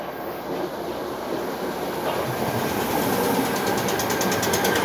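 Merseyrail Class 508 electric train, unit 508137, at Sandhills station, rolling past with a steady broadband roar and clatter of wheels on rails, growing slightly louder, with a faint high whine near the end.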